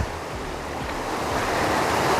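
Creek water rushes continuously beside a wide hiking trail in the Smoky Mountains near Deep Creek, a loud, steady wash with some wind noise and no voices.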